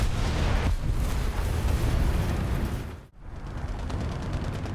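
Tank cannon fire in War Thunder makes a loud, dense roar of booming blasts that fills the whole clip, then drops briefly near the end before the rumble returns.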